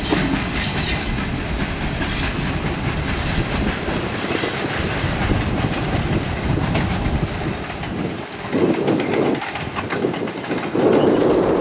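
A US Sugar Corporation freight train with locomotive hauling 40 loads to the Clewiston refinery rumbles past close by, steady and loud, with rhythmic wheel clatter and occasional metallic squeals from the cars throughout.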